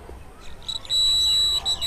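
A buzzer on obstacle-sensing smart glasses for the blind, built without Arduino, gives off a steady high-pitched electronic tone that starts in short bursts and then holds loudly, close by, with no talking.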